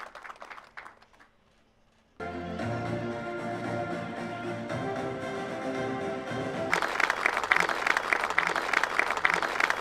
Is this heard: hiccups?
no